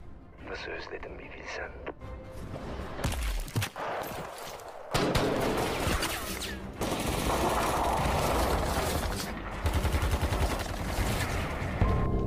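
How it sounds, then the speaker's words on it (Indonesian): Gunfire from a war film's gunfight scene, with bursts and rapid volleys amid dense action effects and background score, loud and continuous, with a narrator talking over much of it. "Adu senjata pun terus terjadi hingga Fibers ini pun terluka oleh si penembak jitu"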